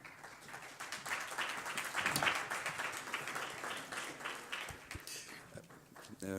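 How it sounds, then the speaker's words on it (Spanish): Applause from the audience at an international public-private cooperation forum in Mexico, as inaugural guests are introduced; steady, moderately loud clapping with voices mixed in, tapering toward the end. "Un aplauso"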